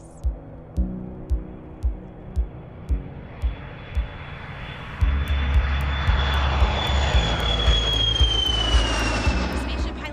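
Virgin Galactic's mothership Eve, flying with Spaceship Unity mated beneath it, gives a loud, steady jet-engine roar with a high whine after a run of soft rhythmic thumps.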